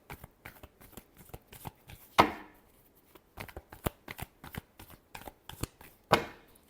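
Tarot cards being shuffled by hand in a quiet room, a run of soft rapid riffles and taps with two sharper slaps of the deck, close and fairly faint.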